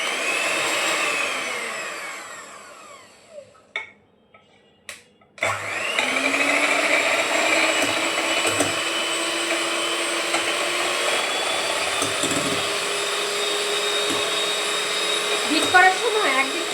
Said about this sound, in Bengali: ইলেকট্রিক বিটারের মিডিয়াম স্পিডে 3 নাম্বার স্পিডে আমি ডিমগুলো বিট করব।